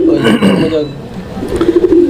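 Raj-golla breed pigeons with their young cooing in a loft, low throaty coos close by, rising again toward the end, mixed with someone talking.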